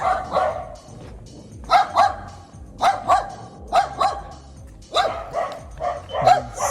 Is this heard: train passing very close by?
no